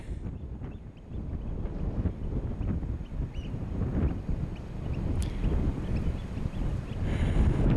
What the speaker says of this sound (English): The wind's so strong, it's blowing my camera around.